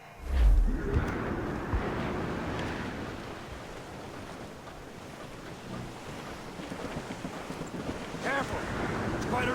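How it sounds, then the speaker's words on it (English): A rough squall at sea in Assassin's Creed Rogue: a steady roar of wind and breaking waves around a sailing ship, with a heavy thump at the start and faint voices mixed into the rushing noise. "It's quite a rough squall"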